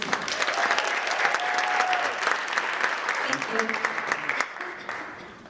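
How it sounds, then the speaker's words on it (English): A crowd claps continuously for several seconds, the applause fairly even before gradually tapering off toward the end. "a round of applause"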